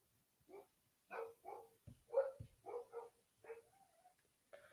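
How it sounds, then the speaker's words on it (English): Dogs barking in a series of short, moderately loud yaps and woofs, clustered in irregular bursts with brief pauses, with no speech over them. "Dogs are barking."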